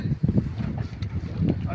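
Gusty wind buffets a fishing boat out at sea on a breezy day, rough bursts of microphone-blown noise rising and falling close by, with faint voices underneath.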